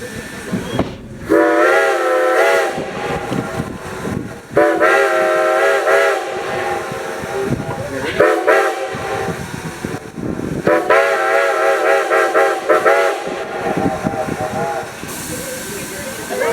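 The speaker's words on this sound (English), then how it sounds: "we would do the famous ghost whistle" A steam locomotive's ghost whistle on the Strasburg Rail Road sounds in three long, drawn-out wails, separated by pauses, over a constant background hiss of steam and rolling train noise.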